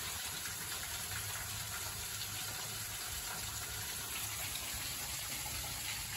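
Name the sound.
water gushing out from under a bluff into a trench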